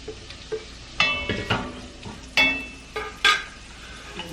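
Onion frying in a pan and being stirred with a spatula: a soft sizzle with several short scraping, clattering stirs spaced irregularly, fairly close and moderately loud, with no talking.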